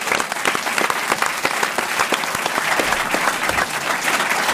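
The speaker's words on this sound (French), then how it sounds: "Vous pouvez applaudir Monique Pantel." Steady, dense applause from a studio audience greeting a guest on a French television talk show filmed at the Alpe d'Huez festival; many hands clap close and loud with no pauses for the full length.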